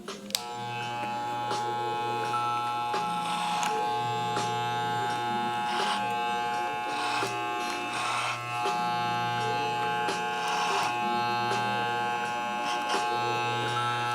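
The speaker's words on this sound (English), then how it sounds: "what I like to do is I comb in and then go up with the clipper" Electric hair clipper running steadily, a constant close buzz with slight shifts in pitch as it moves through hair during a low drop fade, a faint voice now and then beneath it.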